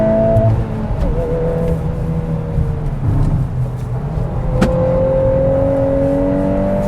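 A 2022 Volkswagen Golf R with a 6-speed manual drives a twisty road, its engine holding a steady, loud cabin rumble with a brief pitch drop and a rise as gears and throttle change.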